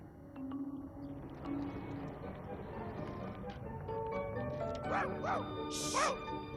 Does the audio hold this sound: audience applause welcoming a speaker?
no